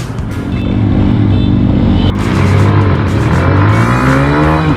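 Suzuki GSX-R150 and Demon GR200R motorcycles accelerate hard side by side in a drag race, engines screaming loudly and rising in pitch through gear changes, with a brief break around a shift midway.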